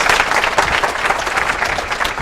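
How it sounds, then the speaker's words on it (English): An audience claps steadily, a dense patter of many hands applauding at a constant level without pause. "Round of applause, please."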